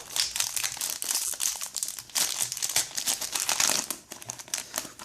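A Pokémon XY Etincelles trading card booster pack is torn and crinkled open up close, giving a continuous crackling rustle of foil wrapper over five seconds, with no one speaking.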